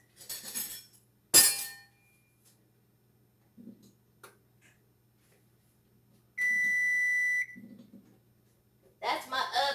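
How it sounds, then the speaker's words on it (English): An oven beeps once in a steady, sustained tone to signal it is preheated, set among quiet kitchen clinks and brief clatter while making macaroni and cheese. "That's my oven telling me it's preheated."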